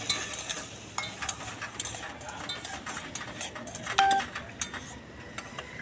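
Potatoes and soaked raw chickpeas being stirred in a pan, a soft steady scraping and clinking of a utensil against metal over a faint sizzle, with occasional sharper taps.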